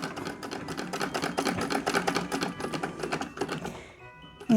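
A treadle sewing machine stitches along the edge of fabric for a rice bag, giving a close, rapid clattering rhythm that slows and fades near the end before a brief bump.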